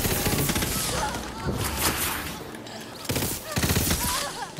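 Bursts of gunfire from a 12-bullet gun in the video game Tiny Tina's Wonderlands, rapid clusters of sharp shots separated by brief pauses, loud and close.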